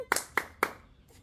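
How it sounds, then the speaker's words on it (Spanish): A few sharp, close hand claps, three distinct claps spaced evenly over about a second, then a faint fourth, in a lively Spanish-speaking show setting. "¡No, no! ¡Aplausos para Damián!"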